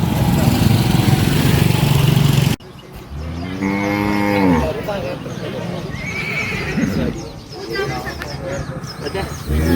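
A water buffalo gives a long, loud, drawn-out moo nearby, followed by a shorter second call, over a noisy outdoor background.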